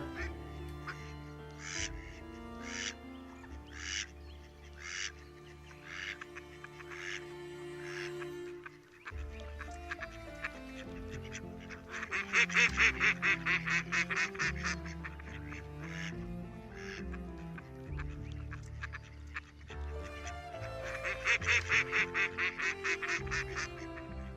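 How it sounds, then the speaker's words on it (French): Repeated nasal quacking and honking calls from waterbirds on a New Zealand shore come in bursts over a steady layered background, fairly close and loud. "De nombreux oiseaux sont visibles sur la grève."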